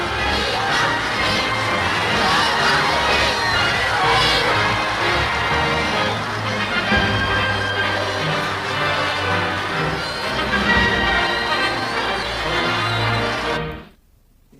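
A large crowd roars and cheers outside Buckingham Palace in celebration, a dense, loud, sustained wall of voices and shouts that drops away abruptly at the end.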